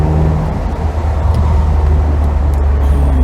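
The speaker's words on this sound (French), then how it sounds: "c'est un moteur qui est vachement plein" A Honda NSX NA1's engine rumbles on the move, a loud, deep and steady drone with road noise, no talking.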